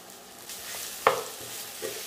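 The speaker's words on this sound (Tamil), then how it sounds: "இங்கேயே நம்ம வந்து சால்ட் போட்டு வதக்க ஆரம்பிச்சிடலாம்" Okra sautéed with salt in a pan sizzles softly, with a sharp spatula scrape and a few lighter stirring knocks.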